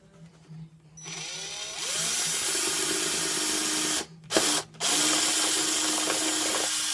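A power drill boring holes in the plastic body of a Redcat Everest 10 RC car for body clip straps: the motor spins up and whines steadily at close range, stops briefly twice, then resumes.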